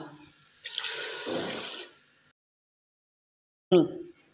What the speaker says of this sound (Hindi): इसके साथ मैं इसमें डालूंगी 2 गिलास पानी।